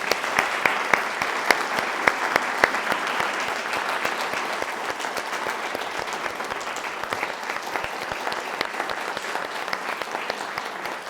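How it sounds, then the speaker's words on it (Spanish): A lecture audience applauds at the close of a talk on Carreño de Miranda's portrait of Charles II, with a steady wash of many hands clapping, sharper individual claps early on, fading slightly toward the end. "Vamos a pedir un aplauso."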